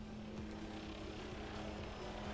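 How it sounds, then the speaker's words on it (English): A low, steady droning hum of helicopters flying outside, distant and continuous, with no voices. "Don't mind the helicopters you guys hear outside."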